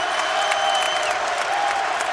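A basketball arena crowd at a college game roars steadily during a 14-0 home run for Davidson against VCU, a dense continuous wash of cheering and applause with no pauses.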